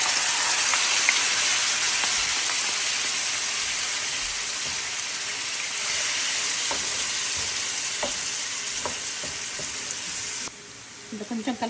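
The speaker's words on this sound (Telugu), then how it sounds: "ఇది ఫ్రై అయిపోయిందండి మంచిగా" Gravy fries with cumin for perugu kadi in a close, continuous sizzle and crackle like heavy rain, with spoon scrapes now and then. It drops suddenly near the end to a quieter sizzle.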